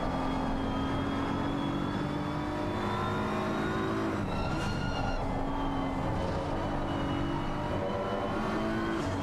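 A simulated BMW race car howls around the Brands Hatch circuit, its engine note steady and loud throughout, with gear changes and shifting pitch as it rides the kerbs, sustained with no speech.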